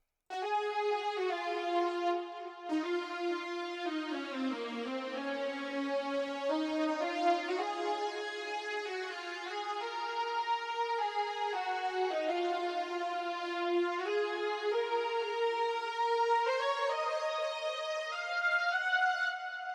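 An R&B synth lead from an Analog Lab big hall preset plays a slow, sustained melody alone, bright harmonic tones gliding between notes with long reverberant tails, steady and moderately loud throughout.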